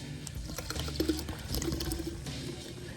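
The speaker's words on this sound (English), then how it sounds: "I'm just gonna pour this" Iron remover liquid glugs and splashes as it is poured from a bottle into a container during car detailing, a quiet close pour with small drips.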